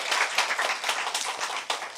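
A church congregation claps together in a dense, lively burst of many hands, close and loud, with no voices over it.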